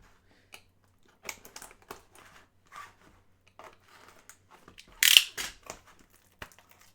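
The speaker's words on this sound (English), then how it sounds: "That knife pullback was loud." A knife retracted while cutting open a sealed box of Upper Deck SP Game Used hockey trading cards, scattered soft cardboard crinkles and scrapes, then one sharp, loud clacking burst, close and alone.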